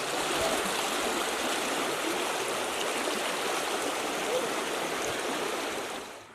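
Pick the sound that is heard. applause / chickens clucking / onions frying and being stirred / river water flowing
river water flowing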